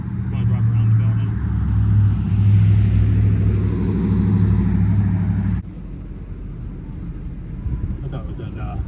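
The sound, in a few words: car driving around the bakery building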